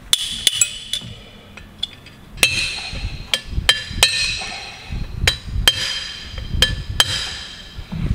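Sharp metallic hammer blows strike a punch one at a time at an irregular pace, close by, with low shuffling workshop noise between strikes, while removing a part from a Fendt 1038 tractor.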